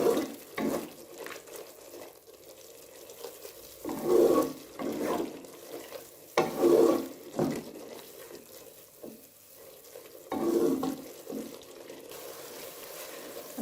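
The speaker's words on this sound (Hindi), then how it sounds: "धनिया और काली मिर्च थी इसे ऐड करते हैं, और ज़ीरा, अब इन सब चीज़ों को फिर से मिक्स करना है।" Coriander, black pepper and cumin being mixed into lobia pulao in a pot, heard as a few soft scraping and swishing stirs that come and go, with faint watery sizzling between them and no talk.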